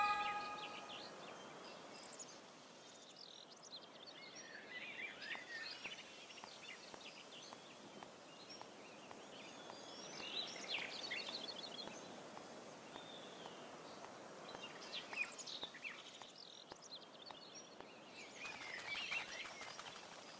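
Birds chirp and tweet in The Legend of Zelda: A Link Between Worlds, with scattered high calls over a soft ambient bed and light footstep-like taps, moderately quiet and close, with no talk.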